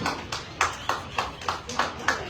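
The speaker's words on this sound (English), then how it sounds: "Let's have a round of applause" Rhythmic clapping from an audience at the Melbourne Royal Show dog judging, honouring the Australian Cattle Dog challenge winners: a steady run of about seven evenly spaced claps, moderately loud, with voices around it.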